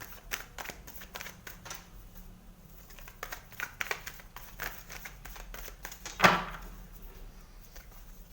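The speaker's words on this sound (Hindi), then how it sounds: "Let's take some more cards." Tarot cards shuffled and drawn at close range: a run of quick papery riffles and flicks, then a louder single snap or slap of a card being set down, with no talking.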